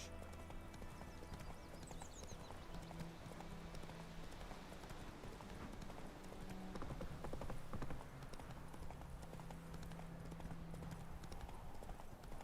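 Roach, the horse in the video game The Witcher 3: Wild Hunt, trots with steady rhythmic clip-clop hoofbeats throughout, with occasional whinnies and a low game soundtrack underneath.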